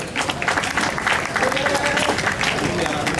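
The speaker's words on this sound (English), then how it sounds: "a big applause, ladies and gentlemen" Audience at a Maasai evening show at Neptune Pwani Beach Resort in Zanzibar applauds continuously and fairly loudly, a dense wash of hand claps with some voices mixed in.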